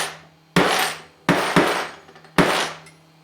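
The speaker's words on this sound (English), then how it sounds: "I mostly use this miniature anvil for riveting." Nails are hammered straight on a miniature anvil resting on a plywood table, giving four loud, ringing metallic strikes at uneven intervals, each fading with a resonant hum.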